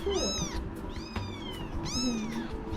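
A tiny kitten meows a few times in quick succession, close and fairly clear, with some quiet handling noise around the cries.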